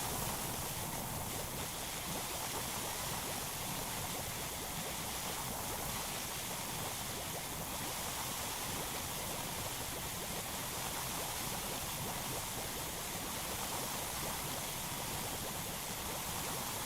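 Steady, loud rushing spray from a pressure washer in PowerWash Simulator 2, an unbroken broadband hiss of water running throughout, no talk.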